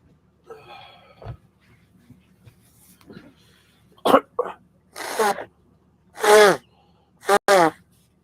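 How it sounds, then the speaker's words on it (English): A series of sharp, wet nasal blasts and snorts, several bursts in a row growing louder toward the end, after some quieter rustling and breathing. "Kleenex, blow my nose."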